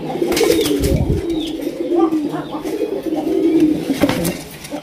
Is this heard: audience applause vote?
no